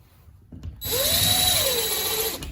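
A power drill drives a screw into a wall to mount a USMC sword holder, starting after a brief click and whining steadily at high speed for about a second and a half before stopping.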